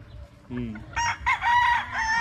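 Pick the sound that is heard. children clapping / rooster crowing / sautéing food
rooster crowing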